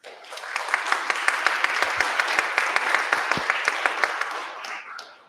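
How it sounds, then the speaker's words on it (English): Audience applause after a talk at a tech meetup on recommendation systems, a steady wash of many hands clapping with a few sharp individual claps standing out, lasting several seconds before tapering off. "let's give the last round of applause to both speakers"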